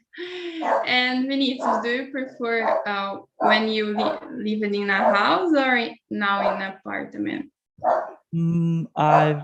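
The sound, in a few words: dog barking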